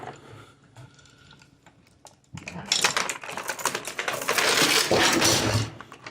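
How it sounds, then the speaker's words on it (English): A chain hoist pulled down by hand while working on a snowmobile, starting with quiet sparse clicks, then a loud rapid rattling of chain links and ratcheting that builds and holds before trailing off. "Pull the chain hoist down."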